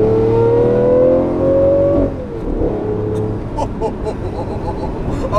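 A 6.5-liter Lamborghini V12 in a Lamborghini LP640 revs hard in a tunnel, its tone climbing loudly before dropping off into crackling pops and a rumbling idle.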